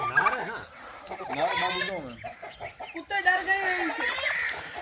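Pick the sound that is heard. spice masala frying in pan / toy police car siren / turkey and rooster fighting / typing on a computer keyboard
turkey and rooster fighting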